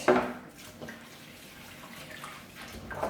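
Water gurgles and rushes softly as it drains from a sink, a low steady wash with small splashy surges.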